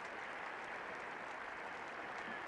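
A 1977 Ashes Test crowd at Old Trafford applauding Tony Greig off the field: a broad, steady wash of distant clapping from the stands, even and unbroken throughout.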